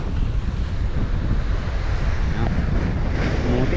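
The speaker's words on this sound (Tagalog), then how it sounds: "Muti-muti na naman ang karagatan." Rough waves of the West Philippine Sea surge and crash continuously around a boat, with heavy wind buffeting the microphone, a constant loud roar of water and gusts.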